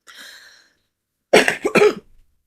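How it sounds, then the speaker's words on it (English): A person with a severe cough lets out a couple of harsh coughs close to the microphone, preceded by a brief faint throat sound, in an otherwise quiet indoor setting. "I may need to take a break in between because I have severe cough"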